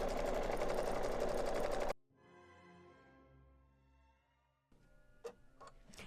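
An embroidery machine stitches batting to stabilizer, a close, fast mechanical rattling hum for about two seconds that stops abruptly, followed by quieter ringing, a few light clicks and handling sounds.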